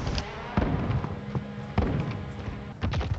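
Airstrike explosions in the Call of Duty Warzone video game, a series of loud booming impacts spaced roughly a second apart, each with a sharp onset and rumbling tail.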